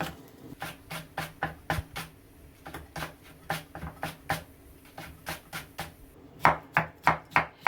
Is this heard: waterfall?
no